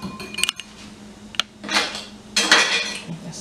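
A spoon scrapes and clinks against a bowl while cornbread batter ingredients are mixed, giving a few sharp taps followed by brisk swishing strokes, close and clear.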